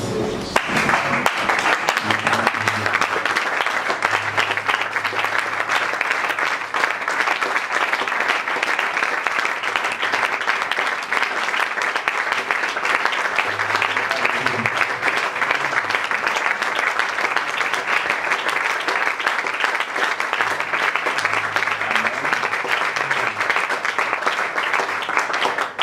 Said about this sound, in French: Est-ce qu'on peut se tenir debout acclamer?